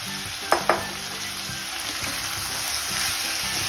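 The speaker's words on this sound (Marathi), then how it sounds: "आता आपण पुन्हा एकदा परतून घ्यायचंय एक 2 ते 3 मिनिट." Green peas and potatoes sautéing in oil, with a steady close sizzle, two sharp clinks of a utensil early on, then soft stirring scrapes under the frying hiss. No one speaks.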